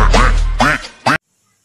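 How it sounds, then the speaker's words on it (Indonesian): A white duck gives three loud, close quacks in quick succession, the last one short, followed by silence. "ternyata ini bebek"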